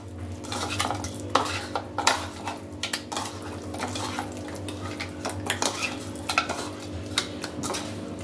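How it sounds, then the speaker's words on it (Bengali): Fish pieces being mixed by hand with turmeric and mustard oil in a bowl for Kolkata-style rui fish chops, giving soft wet squelching and scattered light clinks throughout, close and steady with no talking. "এই সব কিছু দিয়ে মাছগুলোকে ভালো করে মাখিয়ে নেব"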